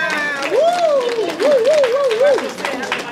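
At a party investiture event in Nanterre, an audience applauds and cheers newly elected officials, with dense clapping and scattered shouts under a prominent voice that rises and falls.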